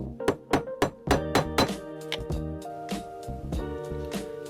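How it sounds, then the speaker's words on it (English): Hammer blows on a handmade copper wire ear hook, a quick run of sharp metallic taps in uneven bursts with ringing tails, close and fairly loud with no talking. "I'm not worried about hammering that."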